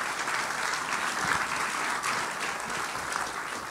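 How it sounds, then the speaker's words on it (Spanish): A crowd at a talk applauds steadily, a dense wash of many hands clapping at an even, sustained level from start to finish. "Démosle un aplauso a estos chicos"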